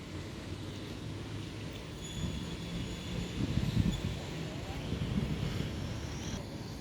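Thai rapid train 170 at Photharam station gives a low rumble and clatter of rail cars with faint squeals and wind noise, moderately distant, while someone speaks intermittently.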